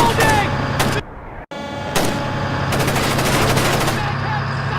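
Loud, close automatic gunfire rattles in sustained bursts during a Splinter Cell firefight, broken by a brief pause before the shooting resumes, with shouting voices mixed in.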